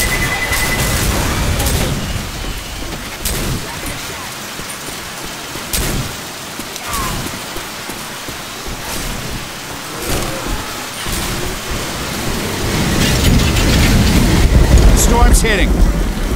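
Heavy rainstorm with rolling thunder in the Left 4 Dead 2 video game, a steady loud hiss of rain punctuated by several booming cracks, swelling louder toward the end, with game voices over it.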